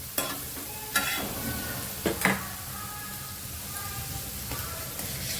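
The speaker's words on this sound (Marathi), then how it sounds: "यामध्ये आता मी टॅमॅटो सुद्धा घालून घेणार आहे" Chopped tomatoes go into a pan of frying pav bhaji, which sizzles steadily throughout, with a few sharp spoon stirs and scrapes standing out near the start.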